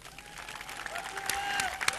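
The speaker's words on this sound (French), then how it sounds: "il ne nous reste plus qu'à vous demander de l'applaudir très fort" A crowd of residents in Lemba Imbu, Kinshasa, applauds for the President of the DR Congo, Félix Tshisekedi, with steady, dense clapping that swells and grows louder, mixed with scattered voices and a thin tone over the crowd.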